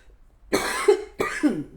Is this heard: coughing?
yes